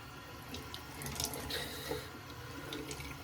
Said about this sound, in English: So let's go in with the cold water.